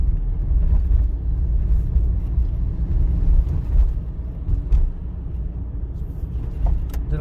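A car drives straight ahead on a road during a driving test, its engine and tyre rumble heard from inside as a steady, loud low drone with faint rattles, no talking.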